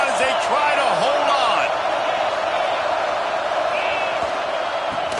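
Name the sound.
crowd noise in College Football video game stadium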